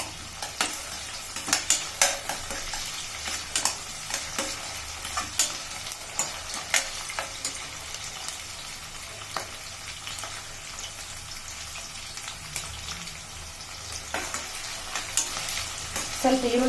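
Onions frying in a pan on a gas flame give off a continuous crackling sizzle, broken by frequent scraping stirs, close and steady throughout with no one talking.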